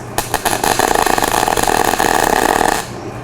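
A MIG welder lays a short tack weld, producing a steady crackling buzz close by for about two and a half seconds before cutting off.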